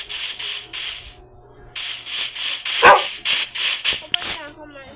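A dog barks in quick repeated bursts, loud and close, with a short pause before another run of barks, while someone talks over part of it.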